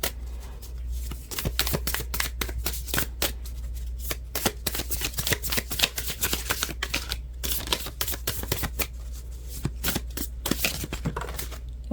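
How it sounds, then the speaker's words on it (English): Oracle card decks shuffled by hand in a tarot reading, a long run of rapid crisp riffling flutters and snaps up close, with no talking. "I am going to shuffle a bit more, see if any other ones come out for us here."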